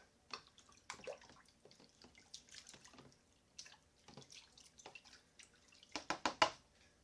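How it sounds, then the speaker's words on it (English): A measuring cup being rinsed under running tap water in a kitchen, soft splashes and drips in scattered bursts, quiet and close, ending in a cluster of brisker splashes. "I'm going to rinse my measuring cup."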